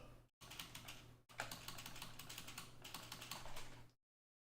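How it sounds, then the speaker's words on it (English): Computer keyboard typing up close: a dense run of quick key clicks and spacebar presses, with a brief pause near the start and another short break before it stops abruptly. "Listen to my keyboards. Like my keyboard, I'll be pressing space."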